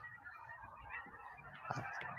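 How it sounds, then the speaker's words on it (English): Ducks honk while flying overhead outdoors, their calls faint and distant over steady background noise, with one slightly louder call near the end. "Wow, I hear ducks."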